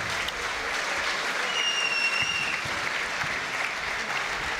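Audience applause at a Muay Thai event as a fighter heads up into the ring, steady dense clapping filling the hall, fairly loud and continuous with no talk over it.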